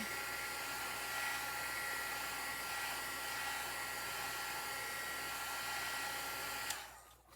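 A hair dryer blows steadily on a dollar-store Easter craft piece, a loud continuous whooshing roar held for several seconds before it clicks off near the end, with no talking.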